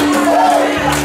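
Church congregation shouting together in triumph during a sermon, a loud sustained swell of voices with a steady hum underneath.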